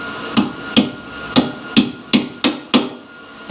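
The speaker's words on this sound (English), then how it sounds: "Leatherman is a hammer." Seven sharp metallic strikes from a Leatherman multi-tool used as a hammer on a 1964 Chevy II gasser, in a steady rhythm, close and loud, each with a short ringing tail.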